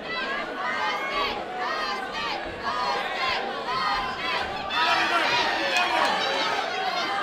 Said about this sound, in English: The crowd in full voice.